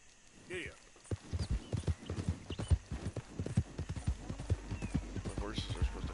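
Rhythmic clip-clop of horse hooves in the video game Red Dead Redemption 2, steady and close, with a brief whinny early on and a person talking over the trotting.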